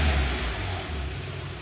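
A car engine runs after starting, its steady mid-pitched hum shifting slightly as it revs, close and fairly loud throughout.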